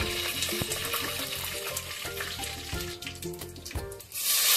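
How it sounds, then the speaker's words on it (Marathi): Curry leaves and cumin seeds hit hot oil, giving a close, crackling sizzle with sharp pops and spatters and a burst of loud hiss at the very end, with no voices. "तर तेल गरम झालं आहे, त्याच्यामध्ये कढीपत्ता टाकून घेऊया."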